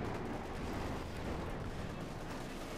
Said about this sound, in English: The Guardsmen out in the open getting plastered with machine gun fire.